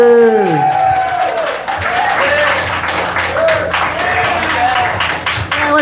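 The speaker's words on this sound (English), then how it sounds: "Clap it up for the comedy stylist of Chad Leonard." Applause and clapping fill a comedy show room, a steady wash of audience claps running throughout while a host's voice carries over the top.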